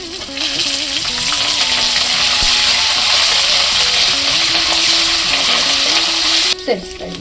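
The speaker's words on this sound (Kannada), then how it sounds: "ಈಗ ಬೆಳ್ಳುಳ್ಳಿ ಹುರಿತಿದ್ದಂಗೆ ಈಗ ಕಡಲೆಪಪ್ಪು ಸೇರಿಸ್ತಾ ಇದ್ದೀನಿ" Garlic and chana dal fry in a pan at home, a steady close sizzle with faint clinks and a short scrape near the end, under someone speaking Kannada.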